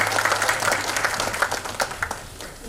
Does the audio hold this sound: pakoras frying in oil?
no